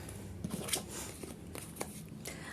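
Soft, close rustling and light flicking of cards being handled, with brief slaps and scrapes scattered irregularly over a quiet background.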